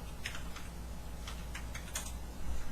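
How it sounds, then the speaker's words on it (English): Fingers type a short phrase on a computer keyboard, a quick run of light key clicks up close over a steady background hum. "I'll just type Tin Machine."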